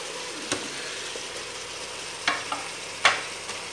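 Meat and carrots sizzle steadily in a frying pan for spring rolls, a continuous hiss broken by a few sharp stirring clicks, close and fairly quiet.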